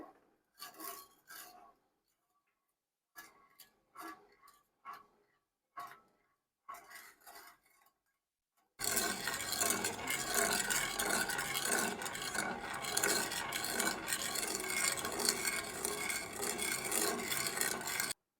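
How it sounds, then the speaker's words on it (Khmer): A few soft scraping strokes, then a loud, continuous rasping scrape of a utensil stirring granular sugar against a metal pot. "យើងកូរស្ករវារលាយ"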